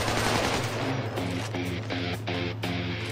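AK rifle firing in Payday 2, a rapid burst of gunshots sharply spaced through the second half, loud and close over a busy game soundtrack.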